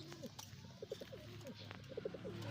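Pigeons coo softly in short, repeated throaty phrases close by, with faint background rustle and a hint of voices.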